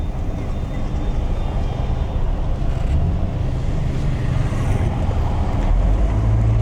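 Road traffic in Peru rumbles as a steady, loud wash of car and truck engine noise with tire roar, heard continuously from inside or beside a moving vehicle, without talking.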